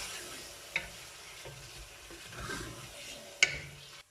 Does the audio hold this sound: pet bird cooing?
no